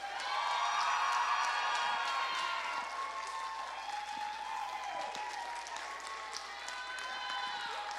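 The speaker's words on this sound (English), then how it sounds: "I want all of you seniors to cheer as loud as if this place was full of 600 people" Seniors at a school gathering for outgoing student council presidents clap and cheer, with whoops rising through a dense, sustained wash of applause that stays fairly even throughout.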